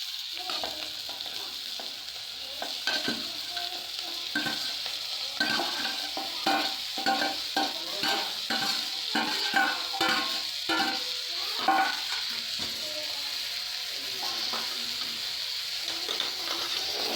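Onions fry in oil in a pan, a steady hiss of sizzling under repeated rhythmic scrapes and clacks of a spoon stirring, close and continuous throughout.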